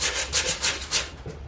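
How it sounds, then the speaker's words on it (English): Sandpaper rubbed back and forth over a small wooden bird feeder, giving four or five close, rhythmic rasping strokes that fade toward the end. "And right now I am, sanding it"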